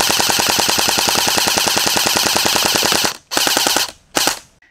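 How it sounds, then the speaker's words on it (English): A Crosman Black Widow BB gun fires fully automatic from a 50-round magazine at a target 30 feet away. A loud, rapid, even rattle of shots runs for about three seconds, then two short bursts follow as the gun dry fires. "Put 50 rounds in the mag, held it as steady as I could, and let it rip at 30 feet until it started dry firing."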